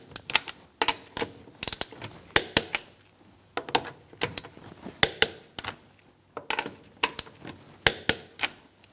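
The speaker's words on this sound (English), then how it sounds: "We're going to torque our top bolts to 25 foot-pounds." A torque wrench on the strut top bolts of a 2004-2009 Mazda 3, rapid ratcheting clicks in short bursts with brief pauses between, close and fairly crisp, with no talking.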